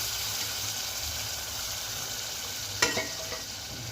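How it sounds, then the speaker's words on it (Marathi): Mutton curry sizzles steadily in a pan as the broth from cooking the mutton is added and stirred, a continuous frying hiss with a short scraping clatter of the spoon toward the end. "आपण मटण शिजवून घेतलेला जो रस्ता आहे तो पण याच्यामध्ये मी ॲड करते"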